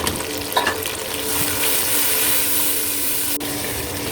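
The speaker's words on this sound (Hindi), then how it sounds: "अब ये सारे मसाले जो भी आपको दिखाए थे वो हम इसमें डाल के जो है वो भूनेंगे।" Spices and rice fry and are stirred in a pot for matar pulao, producing a loud, continuous close sizzle with scraping stirring noises and a sharp clink near the end.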